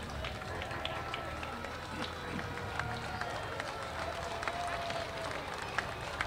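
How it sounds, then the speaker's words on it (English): A parade crowd at a Freedom Festival in Bothell cheers and claps, a continuous mass of applause and voices heard from a moderate distance, fairly faint with scattered sharper claps. "Listen to that crowd."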